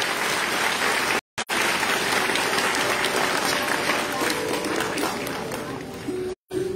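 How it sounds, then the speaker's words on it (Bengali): An audience at a live music concert in Katwa bursts into loud, sustained applause, a dense crowd of clapping that carries on with only brief breaks. "ফুলের সাথে সাথে করতালির সৌন্দর্য চাই একসাথে।"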